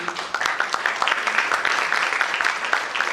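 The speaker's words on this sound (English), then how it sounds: "can we give a big round of applause to TiE team and Sachin" Audience at a business networking event breaks into applause, a steady wash of many hands clapping with sharp individual claps standing out, moderately loud and unbroken, with no talk over it.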